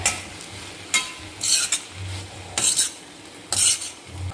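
A spoon stirs bonda tikka masala in a pan after a handful of spring onions goes in, making a few distinct scraping sweeps over a low sizzle, close by and without speech.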